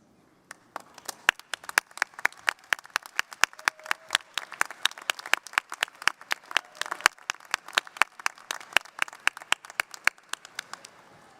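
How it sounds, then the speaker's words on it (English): A graduation audience at a Rutgers business school ceremony claps, sparse and crisp at first, then building into quick, even clapping that carries on to the end. "give a big round of applause to the loved ones who are with you"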